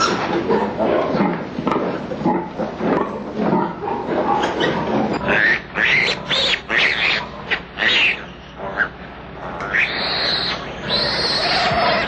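Pigs grunt and squeal in a loud, chaotic chorus, with sharp high-pitched shrieks breaking out repeatedly toward the end.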